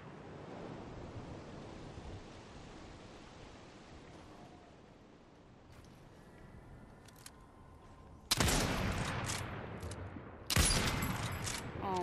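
Gunfire in a shooter video game: a steady rushing wash gives way to two loud, abrupt bursts of shots about two seconds apart, with no talking.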